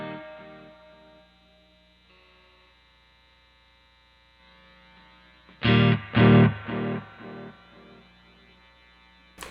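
A guitar played through a Keeley Halo dual echo pedal with saturation set halfway gives a low hum and decaying echoes, then a few loud, gritty chords ring out with repeating delays.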